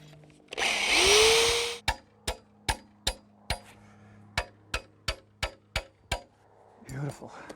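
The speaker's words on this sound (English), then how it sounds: "Now I'll drill a hole through the bottom for the lower bolt." A power drill bores a hole through the bottom of a flagpole base, whining loudly for about a second, then about a dozen sharp, evenly spaced knocks ring out before a brief rustle.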